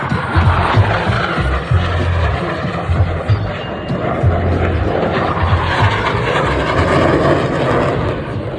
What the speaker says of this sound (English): Aircraft 360 degrees crossing center point.